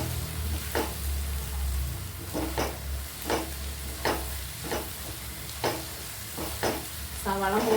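Sliced onions frying in a pan toward golden, a steady close sizzle broken by regular scraping stirs of the spatula, loud and continuous throughout.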